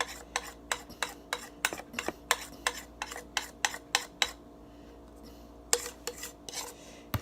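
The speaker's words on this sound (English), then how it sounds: "Then we mix it together like this." A utensil scrapes and taps against a bowl in a quick, steady rhythm while sugar and baking powder are mixed for chin chin, pausing briefly before the scraping resumes.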